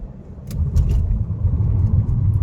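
A Buick Encore GX Preferred with its 1.3-litre turbo engine and front-wheel drive cruises on the road, a steady low rumble of engine and tyre noise heard from inside the cabin, with a few faint clicks overhead.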